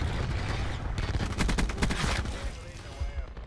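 Rapid automatic gunfire from Call of Duty Black Ops 4, played on Xbox in Domination mode, rattles in dense overlapping bursts that are loud and continuous, with a voice faintly underneath.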